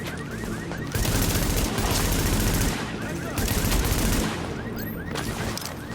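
Sustained automatic gunfire in the video game Tom Clancy's The Division: dense, rapid bursts rattle on and off, swelling louder in two heavy volleys, with no talk over the shooting.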